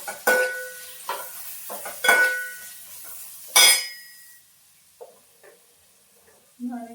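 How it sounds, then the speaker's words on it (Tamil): Green chillies being sautéed in a pan for tomato rice, heard as a few short scraping, sizzling bursts from stirring, spaced apart and close by, with quieter pauses and light clatter between them. "அப்புறம் பச்சை மிளகாய் போட்டு இப்போ நல்லா வந்து வதக்கிக்கலாம்."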